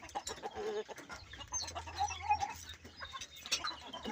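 Backyard pet chickens cluck and chatter softly at close range, scattered calls mixed with other faint bird sounds and a low hum in a quiet pen.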